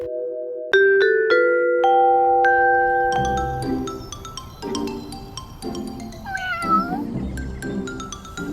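A cat meows repeatedly, clear and close, rising and falling calls over a background of sustained musical tones and clutter.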